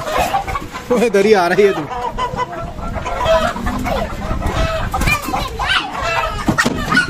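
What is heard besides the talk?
chickens clucking in a pen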